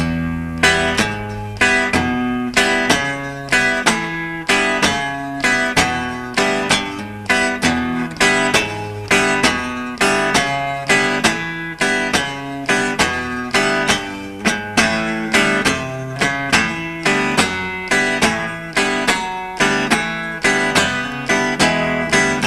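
Blues rhythm on guitar, each bass note followed by an upstroke on the open top two strings, played slowly in a steady even pulse, close and alone.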